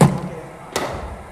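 A cricket bat strikes a ball delivered by a bowling machine during a one-to-one net session, making one sharp, solid knock that stands clear against low background noise just after a short burst of voice.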